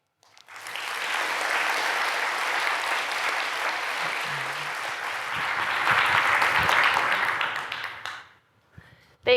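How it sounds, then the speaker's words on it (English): Conference attendees applaud after a talk on technology and biodiversity, the clapping rising quickly, swelling again midway, then tapering off and stopping near the end. "Another round of applause."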